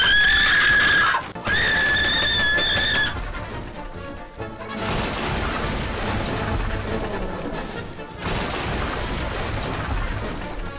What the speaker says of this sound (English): And the uncle's screams of agony are not convincing at all.